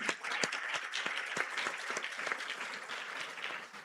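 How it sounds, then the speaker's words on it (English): Audience at a corporate quiz event applauds warmly, a dense wash of many hands clapping at moderate distance that tapers slightly toward the end. "deserves a much warmer round of applause from all of you"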